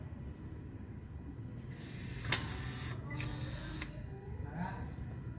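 A 4x4 transfer case actuator motor on a 2019 Toyota Hilux being tested: short whirring motor runs of a second or so, fairly close, over a steady engine hum and background noise.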